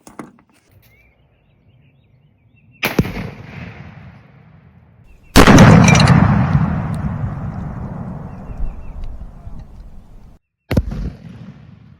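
Outdoor tannerite target detonations at a shooting spot: a sharp blast, then a much louder booming explosion with a long rumbling decay rolling across open ground, and a third sharp report near the end.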